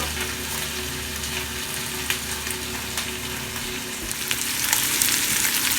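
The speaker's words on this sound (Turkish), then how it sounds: "Döneri de ısıtıyoruz böyle." Döner meat heats in a pan on a home kitchen stove, giving a steady close sizzle and frying crackle with a few scrapes, slightly louder toward the end, with no talking.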